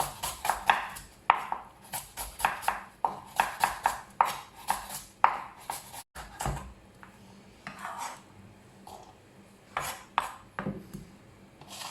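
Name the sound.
chopping onion with a knife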